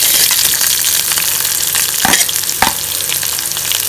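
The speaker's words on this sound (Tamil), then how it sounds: "இதில் நம்ம கட் பண்ணி வச்சிருக்கிற பெரிய வெங்காயத்தை சேர்த்துக்கலாம்." Chopped large onions hit hot oil for a restaurant-style poori masala, giving a loud, steady sizzle and frying hiss close by, with a couple of sharp stirring scrapes in the pan.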